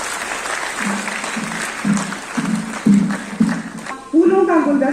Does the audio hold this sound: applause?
yes